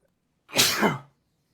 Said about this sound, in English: There's our stream sneeze.